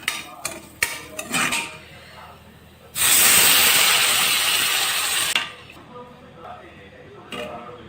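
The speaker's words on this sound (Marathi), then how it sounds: "हे आपण आता छान खमंग तुपात भाजून घेऊ।" Semolina (suji) roasting in ghee in a pan: a few clinks and light clatter of utensils, then a loud, steady hissing sizzle lasting a couple of seconds before it drops back to quiet clinking.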